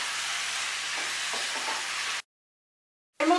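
Prawns, potato and cabbage frying in oil in a pan give a steady sizzle with faint stirring, then a brief silence before a sharp burst of hissing as a little water goes in.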